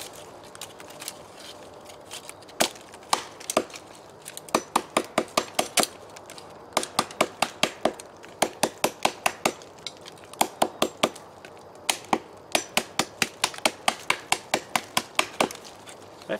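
An Ontario kukri or SP53 knife chops wood in bursts of sharp, rapid strikes separated by brief pauses, moderately quiet and close, with no one speaking.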